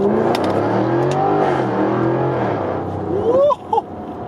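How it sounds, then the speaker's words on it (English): A 2020 Jaguar F-Type R sports car engine revs hard accelerating from first gear, a steady loud exhaust roar climbing in pitch, then a couple of sharp upward whoops near the end. "let's do a little acceleration from first gear"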